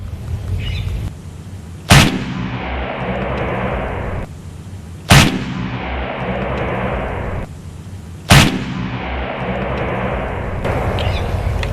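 A 3000 FPE air rifle fires three sharp, loud, close reports about three seconds apart, each followed by a brief decay over steady background noise.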